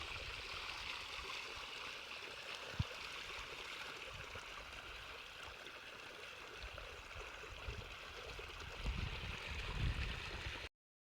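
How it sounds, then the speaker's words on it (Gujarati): Continuous rushing splash of water pouring into a drum and jerrycan, steady and close, with a faint thump partway through and no talking. "એક ટીપણું છે અને એક આ કેરબો છે અને હાંડા હોય પાણી ભરે છે"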